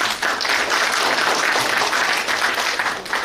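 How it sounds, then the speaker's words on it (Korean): An audience at a Korean provincial education policy forum gives a councillor a burst of loud, dense applause, many hands clapping together for a few seconds with no talking. "이거 발언해주신 정영준 의원님께서 큰 박수 부탁드리겠습니다."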